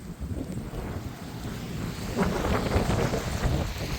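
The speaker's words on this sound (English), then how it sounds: "high gusts of wind." High gusts of wind in a heavy storm with rain, roaring and buffeting the microphone loudly and swelling stronger in the second half, with no speech.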